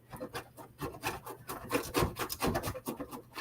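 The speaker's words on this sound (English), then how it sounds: "I have to grate this fairly fast because it's starting to melt in my hand." Butter grated by hand against a grater, a quick run of rhythmic rasping strokes, close and steady, with no talk.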